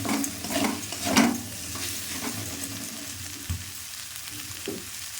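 Kashmiri chili and red chili powder being stirred into hot frying oil for a Bengali rui fish curry with potato and bori: crackling sizzle with a few distinct scraping stirs of the spoon, close and moderately loud, no speech.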